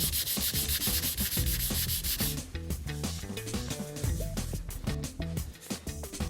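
Hand sanding car paint with 180 grit sandpaper, rapid rhythmic back-and-forth rasping strokes, close and loud, shifting midway to a choppier, more varied scrubbing pattern.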